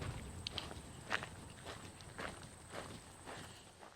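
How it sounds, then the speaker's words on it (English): Footsteps crunch on a gravel path outdoors in a faint, steady walking rhythm of gritty scuffs, quiet and somewhat distant against a soft ambient background. "like when you're walking on a gravel path"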